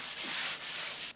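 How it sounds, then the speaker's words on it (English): A sanding sponge rubs along a painted wooden door casing in steady back-and-forth strokes, a close, soft abrasive hiss with brief pauses between passes. "So I'm going to hit it with the sanding sponge"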